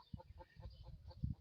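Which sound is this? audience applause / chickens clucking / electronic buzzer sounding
chickens clucking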